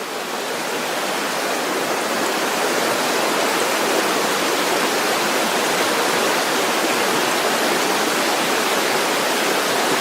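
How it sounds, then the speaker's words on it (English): Snowmelt stream rushing through the woods on a sunny day, a steady, loud, dense wash of water that holds constant for the full length with no voices. "this is all snow melt coming down"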